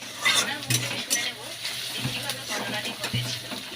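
Chopped onions sizzle in a pan while a utensil scrapes and stirs, with occasional metallic clinks up close.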